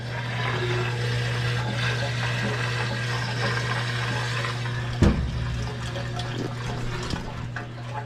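A washing machine on its rinse cycle, cleaning a synthetic sleeping bag, gives a steady motor hum under continuous rushing, sloshing water, with one brief knock partway through.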